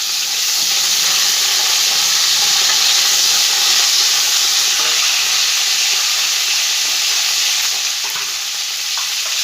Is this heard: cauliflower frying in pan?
yes